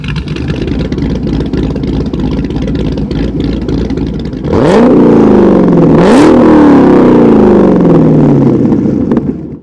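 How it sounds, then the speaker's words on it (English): A 775+ wheel-horsepower Dodge Challenger Hellcat with a stage 1 cam and Borla ATAK exhaust idles with a choppy, rumbling exhaust, then revs loudly twice in sharp bursts, the roar settling into a deep, aggressive drone. "when it's paired with this Borla Atak Exhaust kit, it sounds aggressive, choppy, and absolutely ready for a pull"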